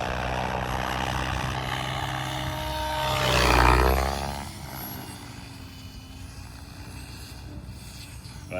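A Goosky RS5 RC helicopter converted to RS6 flies nearby, its steady rotor and motor whine swelling into a louder whooshing pass midway as wind catches the blades, then settling back to a constant hum.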